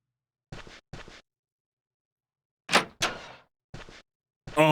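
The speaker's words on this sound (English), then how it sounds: "Oh, that door sound." Video game door opening in Mizzurna Falls: a few short scraping bursts followed by two sharper, louder creaking hits and more brief scrapes, clear and isolated against silence.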